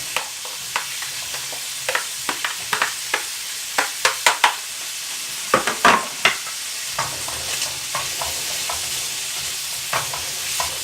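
Chokos frying in a hot pan for a Malaysian coconut-milk dish, stirred with irregular sharp scrapes and knocks of the utensil over a steady soft sizzle, close by with no talking.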